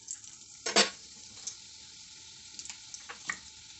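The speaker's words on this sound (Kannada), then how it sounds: "ಸ್ವಲ್ಪ ಫ್ರೈ ಮಾಡಿ," Urad dal fries in a pan for a simple potato fry, a faint sizzle broken by several sharp scraping stirs, loudest early on.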